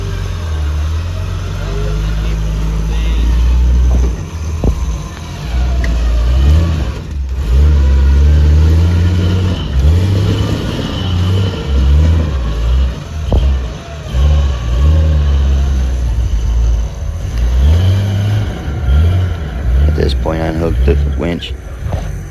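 An Enduro Jeep's engine revs and labors as it climbs a ravine, surging in repeated bursts of throttle with rough, uneven power and occasional clunks, while someone talks over the engine.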